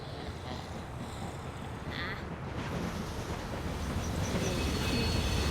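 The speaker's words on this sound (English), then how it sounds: "Mini train." A mini train rolls along in The Walking Dead video game, a continuous rumbling, rattling rail noise that swells slightly and persists without speech.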